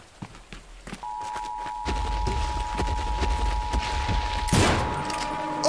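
Gunfire in the Siren Head horror video game: a quick series of sharp shots and clicks at the start gives way to a steady, loud droning game backdrop with a few more hits.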